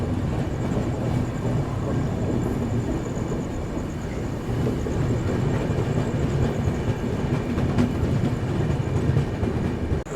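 The 12027 Shatabdi Express from Chennai Central to Bengaluru rolls along with a continuous heavy rumble and rattling wheel clatter, loud and steady throughout, as it runs into Bengaluru Cantonment.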